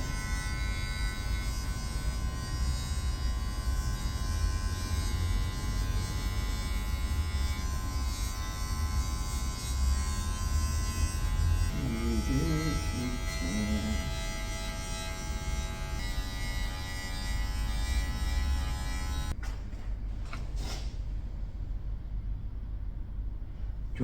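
Electric hair clippers buzz steadily and close up while blending a skin fade in a barber shop, a continuous droning hum lasting about twenty seconds before cutting off abruptly, followed by a few faint clicks and handling sounds.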